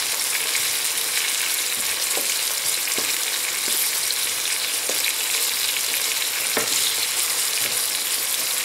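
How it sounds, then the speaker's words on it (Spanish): Chopped onion sautéing in a frying pan for a chicken in sauce dish, a steady close sizzle with occasional stirring clicks and no talk. "esto se va a seguir sofriendo"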